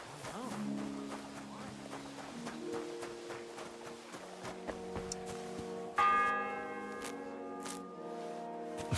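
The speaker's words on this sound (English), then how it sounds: "The fourth bell." A church bell in the medieval village of Kingdom Come: Deliverance II rings in slow, resonant strikes, each tolling note lingering and overlapping the next, with a brighter, louder strike partway through and faint game ambience beneath.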